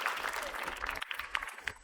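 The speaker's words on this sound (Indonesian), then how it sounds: "kita tepuk tangan untuk shuffle dance dari Olga" A studio audience claps for a shuffle dance performance on a comedy show, fairly quiet, scattered applause with a few sharper individual claps and some voices mixed in underneath.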